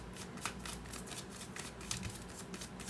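Tarot cards are shuffled close up, with a quiet run of rapid riffling and flicking pulses repeating in bursts, and no voices.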